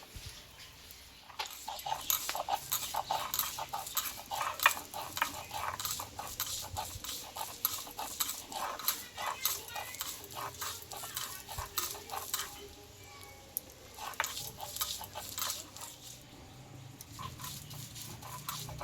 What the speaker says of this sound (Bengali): আমি শিলনোড়াতে বেটে নিচ্ছি